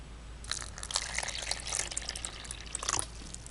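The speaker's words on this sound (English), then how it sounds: "I'm putting fresh water into her" Fresh water pours into a pet tarantula's small water dish, a faint splashing trickle with scattered drips, close by and quiet.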